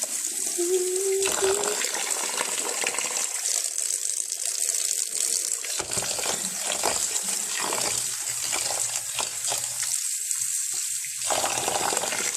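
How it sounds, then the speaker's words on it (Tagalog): Rice being washed under a running kitchen tap gives a steady, loud gush of water with splashing and swishing changes as the grains are stirred. "Hugasan po natin ang ating rice."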